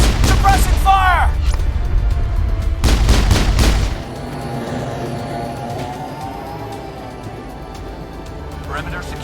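Mass Effect combat opens with loud, dense weapon fire and sharp volleys, then drops to a lower rumbling background, with a voice speaking amid the shooting.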